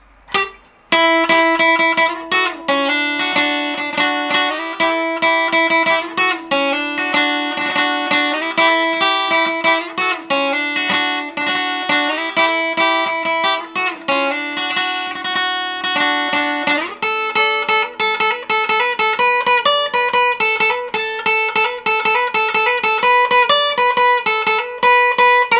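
Requinto guitar plays a melody alone: a continuous run of quick, bright plucked notes with steady rhythm and a shift to higher register partway through, loud and close.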